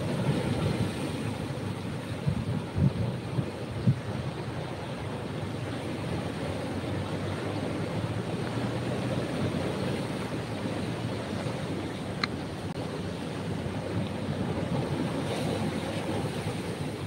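Ocean waves wash steadily on the east beach of Pangandaran, a continuous broad roar of surf with wind noise, fairly close and loud throughout, with a few faint knocks early on and no talking.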